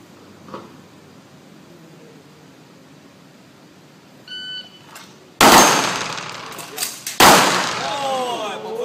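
A pistol magazine is swapped very fast during a shooting reload drill: a faint metallic click, then two loud sharp bangs a couple of seconds apart, each ringing briefly before fading.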